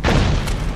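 A grenade blast in the video game Metal Gear Online, set in Groznyj Grad: a single loud, close, deep boom lasting under a second, with no talking over it.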